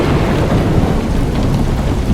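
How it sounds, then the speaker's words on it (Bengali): Heavy rain pours down steadily while deep thunder rolls and rumbles beneath it on an overcast day, loud and close throughout with no voices. "মাঝে মাঝে মেঘ গর্জিয়ে বৃষ্টি নেমে আসে"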